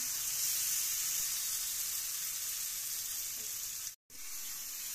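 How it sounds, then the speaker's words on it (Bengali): Ground spice paste from the mixer goes into a sizzling pan for Kashmiri-style alur dom, giving a steady, close broadband hiss of frying that runs almost throughout, cut by one brief silent gap near the end. "মিক্সারে বেটে রাখা মশলাগুলো দিয়ে দেওয়া হচ্ছে"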